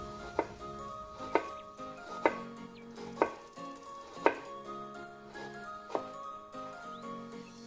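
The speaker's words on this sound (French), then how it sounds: "on va couper en très fines tranches" A knife cuts fresh ginger into very thin slices on a board, giving about seven soft, evenly spaced chops against a quiet kitchen background.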